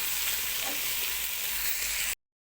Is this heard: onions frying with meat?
yes